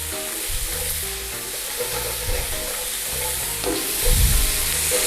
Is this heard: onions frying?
yes